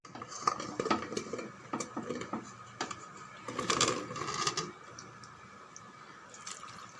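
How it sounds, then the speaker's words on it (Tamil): Water splashes and trickles into a metal pressure cooker holding lentils, vegetables and tomatoes, with some clinking of cookware, the pouring strongest midway before easing off. "தண்ணி விட்டுடுங்க."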